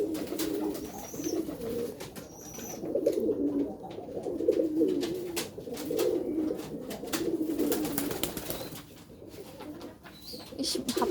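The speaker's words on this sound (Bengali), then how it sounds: "এটা হচ্ছে একটা বনরা কবুতর।" Pigeons coo in low, repeated rolling bursts close by, overlapping through the whole stretch, with a few faint higher chirps in the background.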